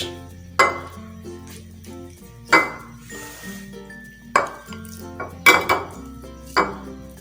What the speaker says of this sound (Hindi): चलिए जनाब, ये अंडे हमारे मैश हो चुके हैं।